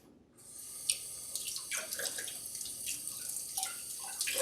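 Tap water runs steadily into a kitchen sink while a teaspoon is rinsed, a soft continuous stream with faint splashes and light clinks at a quiet, close distance.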